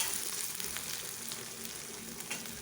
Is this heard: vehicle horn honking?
no